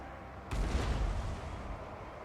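A dwarf grudge thrower firing artillery in Total War: Warhammer, one heavy deep boom launching abruptly after a quiet start, then a rumbling tail fading over distant battle ambience.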